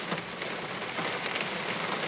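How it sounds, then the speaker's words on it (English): Steady rain falls during a hike, a dense, continuous close patter of drops with no pauses and no voices. "You know that rain's starting to come down."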